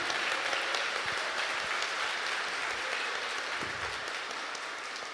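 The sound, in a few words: audience applause in church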